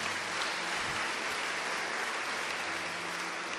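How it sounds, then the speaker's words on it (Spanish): Church congregation applauding together, a steady dense wash of clapping that fills the whole moment without pause, with no talk over it. "Démosle un aplauso al Señor."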